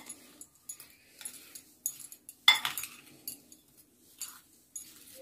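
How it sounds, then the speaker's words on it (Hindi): A spoon stirs spices into a carrot, radish and green chili pickle in a bowl, making soft intermittent scraping and clinking taps, with one sharper clink near the middle. "मैंने इसके अंदर सभी मसाले इस तरह से मिला दिए हैं।"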